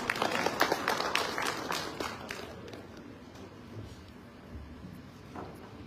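An opening-ceremony crowd at a cricket sports event claps to welcome a guest onto the stage, a burst of applause that is strongest at first and then thins and fades over several seconds.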